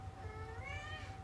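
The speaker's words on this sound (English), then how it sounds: "cat is in the background. He's going to help narrate." A three-legged cat meows in the background, giving a drawn-out, wavering call over a steady low hum, with no talking.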